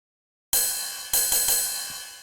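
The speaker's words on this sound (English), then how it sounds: "This is a really straightforward kind of techno ride." A techno ride cymbal sample sounds after a moment of silence, striking several times in an uneven pattern with bright, shimmering washes that ring and decay, alone and close.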